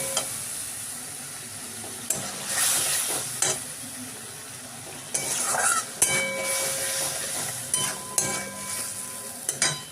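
Onion, ginger, green chili and tomato paste sizzling in a pan, with steady frying hiss and scraping stirring strokes coming in bursts, close and fairly loud, no talking.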